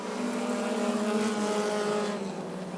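Stock cars roar around Rockford Speedway in a continuous loud, dense engine drone during a Bandit heat race, steady and close with no talking.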